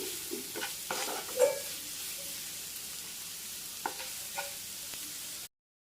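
Sliced onions with salt being stirred in a pan for Kerala-style cauliflower thoran, a soft low sizzle with occasional spoon scrapes and clinks, quiet and close, no talking.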